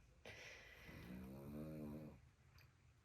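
A dog snores loudly in a room during a home sewing session, one long rasping breath that swells and fades over about two seconds, followed by a faint quiet tail.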